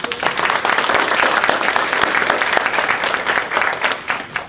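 An audience applauds debate teams after a judges' verdict, a loud, dense wash of many hands clapping that holds steady for several seconds, with faint crowd murmur underneath.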